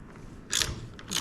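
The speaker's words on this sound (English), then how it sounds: "Gonna take this nut off." Nut being loosened on a motorcycle hand guard gives a few short ratcheting clicks in two brief bursts, close and fairly quiet, with no talk.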